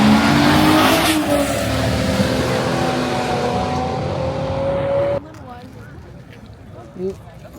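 Race cars run on an airfield runway at a motorcycle season-closing event, with a loud engine drone rising in pitch as one accelerates, then cutting to quieter ambience. People talk over the engines.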